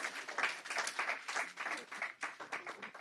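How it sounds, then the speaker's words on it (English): An audience claps at a business-school members' evening and induction ceremony, a continuous patter of many hands, fairly faint and distant, with no speech over it. "Clap for me now."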